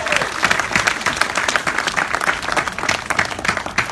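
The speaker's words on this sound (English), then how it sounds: "Give yourselves a round of applause." Audience applause at a ribbon-cutting ceremony in San Pedro, a dense, steady wash of many hands clapping close and loud throughout, with no pauses.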